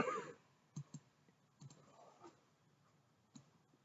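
Computer mouse clicks while working on a graph, several sharp isolated clicks spaced irregularly, faint and close, with a brief louder burst at the start and no talking.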